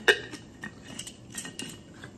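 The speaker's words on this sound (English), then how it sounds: "What we're going to take is a cinnamon stick. Put that in our pan." A cinnamon stick dropped into a pan while making chili oil for vegan dumplings, giving a sharp light clink at the start followed by a few fainter taps and rattles against the metal.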